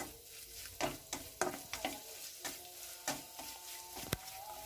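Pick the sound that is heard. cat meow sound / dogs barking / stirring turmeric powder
stirring turmeric powder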